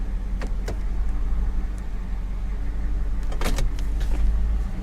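Power windows on an old police car whir as they run, a low motorized hum over the steady idle of the car's engine, with a few brief clicks and thumps from the switches and door.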